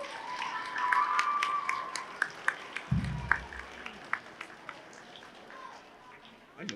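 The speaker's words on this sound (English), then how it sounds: "I want to give your basketball team a big round of applause for a huge season this year." A school assembly applauds the basketball team: light, scattered clapping from a crowd in a hall, with a few sharp individual claps standing out and talk over it.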